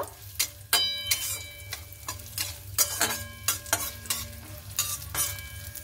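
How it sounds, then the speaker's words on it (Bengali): Cashews and raisins fry lightly in about a spoonful of ghee while a spoon stirs and clinks against the pan in irregular taps over a soft, steady sizzle. "এখানে আমি 1 চামচের মতো ঘি দিয়েছি, আর এখানে আমি কটা ড্রাই ফ্রুট নিয়েছি, কাজু বাদাম আর কিশমিশ নিয়েছি কটা। এইগুলোকে আমি হালকা করে ভেজে নেব"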